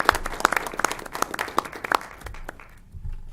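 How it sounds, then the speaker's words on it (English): A small group claps at a city council meeting, with sharp individual hand claps standing out, the applause thinning and dying away near the end. "would you all join me in just thanking them with some applause?"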